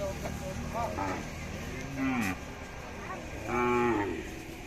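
Cows kept with their calves, sold as cow-and-calf packages in Dinajpur, give two loud, drawn-out moos close by, with a steady murmur of voices and background noise in between.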